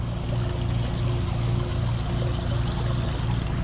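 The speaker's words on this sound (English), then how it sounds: "There's the waterfall." A backyard pool waterfall pours steadily into the water, a continuous close splashing rush with a low steady hum beneath it, even and unbroken for a few seconds without any talking.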